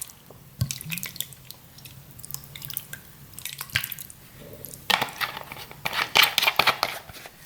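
Mojo-style marinade with salt, onion powder and herbs poured over raw chicken for grilling, giving close wet drips, squishes and splashes in irregular bursts that grow busier toward the end.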